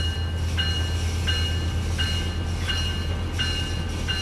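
A passenger train rolls along the Antelope Valley line from L.A. Union to Burbank in Train Sim World 5, with a steady loud low rumble and a ringing tone that repeats roughly every 0.7 seconds throughout.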